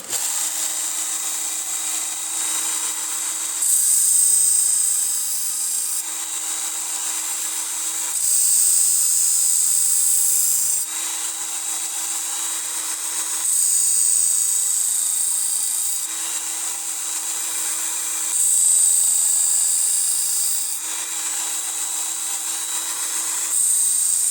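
An electric knife sharpener grinds the edge of a butterfly knife on its roughest grit, giving a loud, steady high-pitched whine that swells in repeated passes every few seconds.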